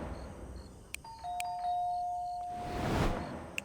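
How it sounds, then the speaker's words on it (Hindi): A doorbell rings with a clear two-tone ding-dong chime, sustained briefly and then fading, heard fairly close in a quiet room with a few faint clicks around it and no one speaking. "सबसे पहले तो मैंने डोरबेल बजाई थी।"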